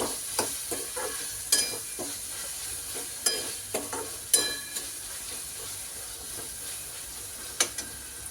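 Onion and tomato gravy cooking in a pan for pasta, a continuous sizzling hiss broken by repeated sharp scrapes and taps of a spoon stirring against the pan, close and moderately loud.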